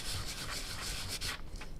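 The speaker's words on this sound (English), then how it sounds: "bring in just a little bit of a sanding block just to go over" Close, dry scratchy rubbing of a sanding block, several quick back-and-forth strokes in an uneven rhythm, with no voices.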